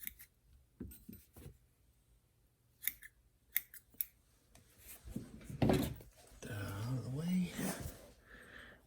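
Several crisp snips of scissors cutting, spaced irregularly, followed by rustling and handling noises near the end.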